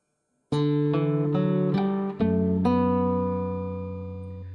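Acoustic guitar plays a short phrase from Minuet in G alone: five or six plucked notes in steady rhythm, the last ringing out and fading, close and clear.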